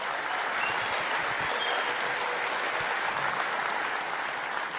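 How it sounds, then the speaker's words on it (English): A crowd applauding at a talk, sustained even clapping from many hands at moderate distance, a dense continuous patter with no voices over it. "So a round of applause for the farmers."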